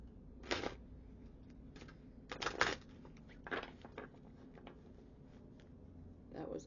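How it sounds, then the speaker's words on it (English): Tarot cards shuffled by hand in a few short, dry riffling bursts spaced across the clip, close and fairly quiet over a low room hum, with brief pauses of near stillness between them. "That was a weird shuffle."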